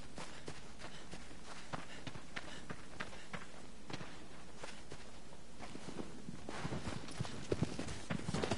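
Horse hooves clip-clop at a steady run in the video game Shadow of the Colossus, a continuous quick beat of soft thuds under ambient game sound, with a few louder hits near the end.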